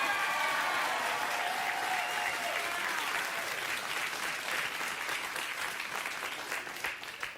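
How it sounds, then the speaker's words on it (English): Studio audience applauding two guests, Steve and Courtney from Canada, at a comedy show; dense clapping starts loud and gradually thins and fades toward the end. "they were clapping for Steve and Courtney, not for the entire country of Canada"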